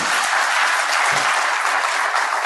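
Audience applause at a political speech, a thick, sustained roar of many hands clapping at once, loud and unbroken from start to finish.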